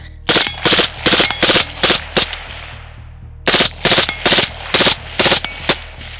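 Suppressed short-barrel rifle fired in two strings of rapid, evenly spaced shots, loud and close, with a brief pause between the bursts and no talking.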